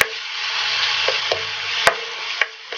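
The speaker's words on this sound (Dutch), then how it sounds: "En dan laat ik je even het bruin bakken." Chicken breast browns in a hot pan with a loud, steady sizzle broken by a few sharp utensil clicks and scrapes.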